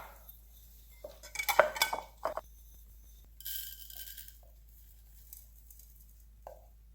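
Spoon clinking and scraping against a bowl while a dry spice rub with celery seed is stirred together, a few clustered bursts of tapping and rattling with quiet pauses between, close and alone.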